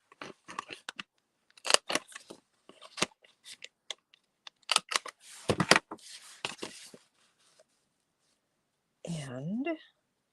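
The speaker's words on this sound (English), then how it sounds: "Let's get that trimmed up just a smidge more." Scissors snip paper trimmed for an 8 by 8 inch scrapbook album, a run of short crisp cuts close up, with soft speech between them and a brief louder sound near the end.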